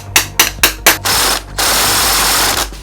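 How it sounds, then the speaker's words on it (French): Hammer blows on a screwdriver working loose the tight rear sprocket of a BMW S1000 motorcycle: four quick, loud metallic strikes close up, then a longer harsh rasping noise. "Monsieur tournevis et marteau."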